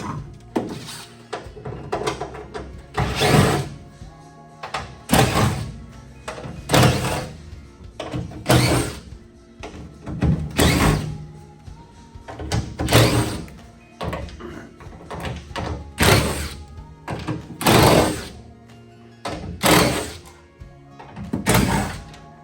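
Metallic work on a 1968 Ford Mustang while its fuel tank comes out, with repeated loud rhythmic ratcheting and clunking bursts every couple of seconds, close up and without voices.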